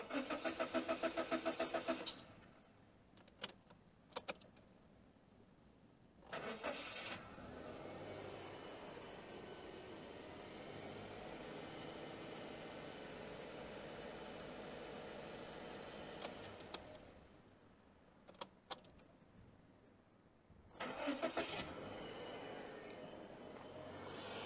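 A car engine is cranked over by the starter with the key, at length, before it catches and settles into a steady idle; the cranking bursts come and go between longer stretches of running engine, close and fairly loud.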